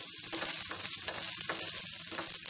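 Green chillies frying in a pan make a close, crackling sizzle with several bursts of stirring and clinking, and the sound stays steady and fairly loud from start to finish.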